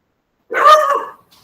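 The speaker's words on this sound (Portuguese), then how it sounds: "Doutor Michel, os cachorros estão bem direitinho." A single loud, close dog bark after a moment of silence, followed by a faint trailing sound, heard during a virtual meeting.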